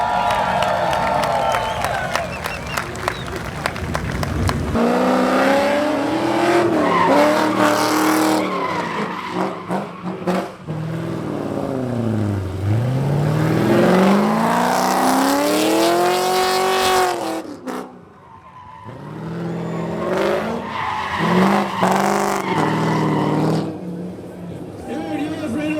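A C6 Corvette drifting at a drift invitational event, engine revving and rising and falling in sweeping pitch bends with tire squeal, loud and close, cutting out briefly as traction control intervenes, with crowd babble and talk underneath.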